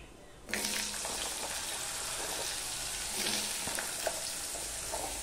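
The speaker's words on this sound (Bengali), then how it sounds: "এবার ফোড়নটা হয়ে গেছে, এবার দিয়ে দিচ্ছি আলু।" Cut potatoes tipped into hot tempered oil for a vegetarian banana flower dish; a sudden loud sizzle bursts in and holds as a steady, close hiss with light stirring clatter.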